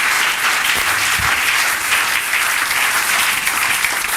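A church congregation at a Sunday worship service breaks into loud, sustained applause, a dense wash of many hands clapping together that holds steady for several seconds without a break.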